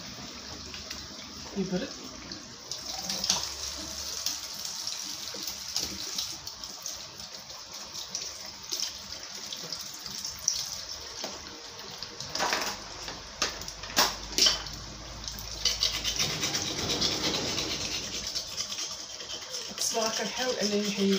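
Tap water running into a kitchen sink while washing up during cooking, a steady faint gush with occasional clinks of dishes, heard under someone talking.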